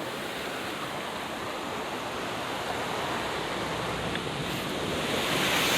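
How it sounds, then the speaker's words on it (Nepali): A mountain stream rushes past in a cold wind, producing a steady, loud, broadband roar with no breaks, close to the microphone. "खोलामा यस्तो चिसो हावा बग्दैछ कि साथीहरू।"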